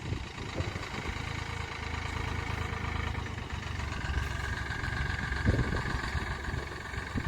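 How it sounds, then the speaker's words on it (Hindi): A Farmtrac 60 tractor idles on a road near sugarcane fields with a trolley behind, a steady low engine rumble running continuously at moderate distance. "farm track 60 tractor"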